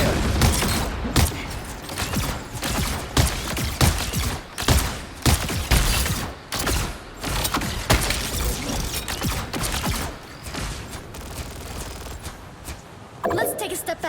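Rockets firing in the Marvel Rivals video game, a dense barrage of rapid bursts and blasts running almost continuously, loud and close, with a character voice calling out over the gunfire-like din.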